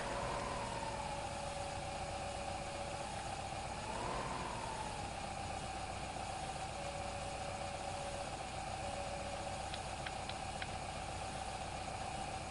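Tractor engine in Farming Simulator 2015 drones steadily at a constant mid-pitched idle, with a brief rev swell early on and a few faint clicks near the end.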